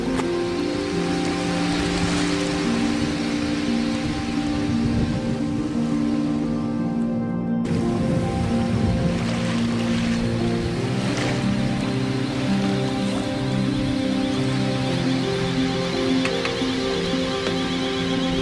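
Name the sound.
sailboat sailing at sea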